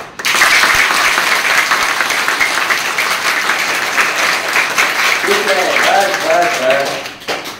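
Children at a self-awareness training camp demo class clap with full force, a loud, sustained roar of applause, then voices chatter over it before it stops abruptly.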